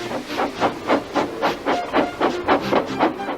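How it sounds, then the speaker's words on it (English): Animated steam locomotive getting ready to back onto its train, with a rhythmic series of loud steam chuffs and hisses, about a dozen evenly spaced bursts heard close and alone. "Gordon, with much noise and blowing of steam, got ready to back onto the train."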